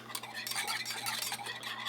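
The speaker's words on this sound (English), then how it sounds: "And then you're just going to whisk." A whisk stirs melted chocolate for homemade hot chocolate, quick, close scraping and clinking strokes against a bowl, repeated in a steady rhythm with a faint hum underneath.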